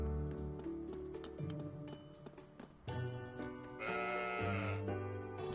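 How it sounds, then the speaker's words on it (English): Sheep bleating in Trails of Cold Steel IV, a few short bleats over loud, continuous game music with jingling accents. "Sheep."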